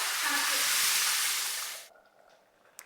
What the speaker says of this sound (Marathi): अशी खमंग आपल्याला फोडणी बसायला पाहिजे हा चरकन बसली ना हा